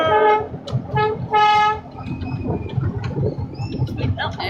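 A miniature park railway train sounds its horn in two or three loud whistle-like toots near the start, then rumbles along the track as passengers talk over the running noise.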